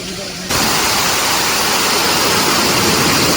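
Steady, dense rush of falling water fills the clip, growing suddenly louder after a brief quieter start and continuing unbroken.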